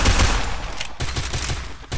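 Rapid bursts of gunfire from the Free Fire battle royale video game, loud and close with a rattling automatic rhythm and a couple of brief gaps.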